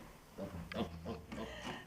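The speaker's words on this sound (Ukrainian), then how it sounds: "Ось такі от поросятка." A small piglet of about four and a half kilograms on a farm gives several short, soft grunts in an uneven rhythm, close by.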